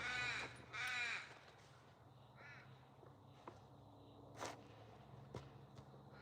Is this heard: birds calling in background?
yes